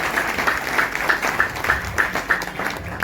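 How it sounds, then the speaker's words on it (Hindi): Rhythmic clapping from an audience at a newly rebuilt temple's consecration gathering in Malegaon, with evenly spaced beats at a moderate, somewhat distant level. "तालियां।"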